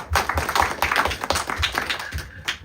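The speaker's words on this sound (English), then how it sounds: "All of you who told mind, we'll give a round of applause." Small audience clapping in a round of applause at a talk, a quick ragged burst of hand claps close by, fairly faint and lasting a couple of seconds.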